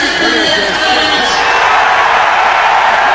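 A football crowd at the Liberty Bowl in Memphis during an XFL game between Orlando and Memphis. A loud, steady roar of cheering fills the whole stretch, and a voice is heard briefly at the start.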